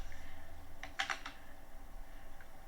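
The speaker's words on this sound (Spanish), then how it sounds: "Si queremos ir al inicio, presionamos la tecla Home en el teclado." Computer keyboard keys pressed in a short burst of a few quick clicks, near and clear over a quiet room hum, with no talking.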